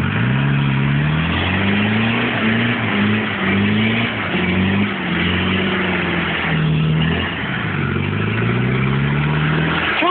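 A car engine revs hard with the accelerator floored, its pitch repeatedly surging and dropping in a continuous loud strain.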